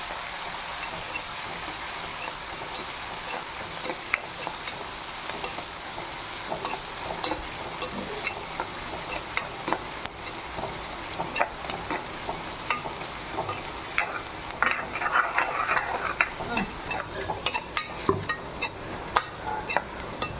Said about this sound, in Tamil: நான் பெரிய சைஸாக வெங்காயம் வச்சு வச்சுருக்கேன், அதையும் போட்டு வதக்கிக்கலாம்